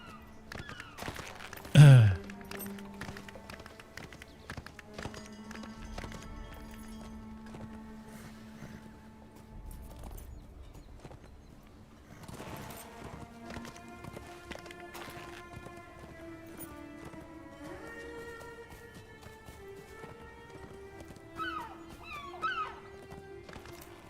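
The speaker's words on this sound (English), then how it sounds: "Let's get on the war steed." War steed galloping in the Lord of the Rings Online game, with steady hoofbeats running under game music and effects, and a loud impact near the start.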